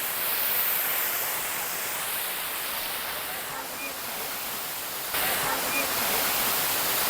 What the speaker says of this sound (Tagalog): Daranac Falls, ito yung sinasadya nila yung ganda ng falls at saka yung tubig na napakaganda na fresh water